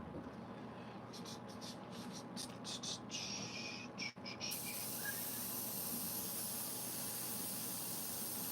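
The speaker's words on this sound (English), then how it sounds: "Trying to get all the white paint out of the airbrush." Airbrush being flushed of white paint, a steady airy hiss of compressed air that sputters briefly in short bursts before settling into a continuous louder spray.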